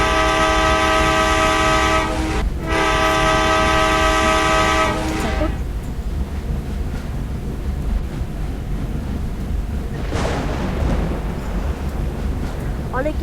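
A train in the Indian Bike Driving 3D video game blasts a loud, sustained horn for about five seconds, with a brief break. A steady, close rolling rumble carries on after it.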